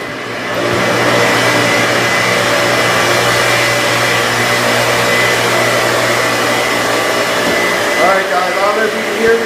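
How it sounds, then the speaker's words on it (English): A reverse osmosis machine processing maple sap on a Pennsylvania farm runs as a loud, steady mechanical hum with a whining motor tone. The drone holds constant throughout, close by and filling the room. "it's going to be a little loud because the RO machine's actually running here now"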